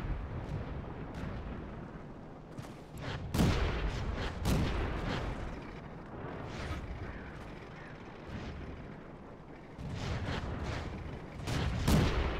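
Tank cannons boom in World of Tanks around a French AMX 38, with several heavy blasts and sharp reports scattered over a rumbling battlefield, some near and some distant, and no voice over them.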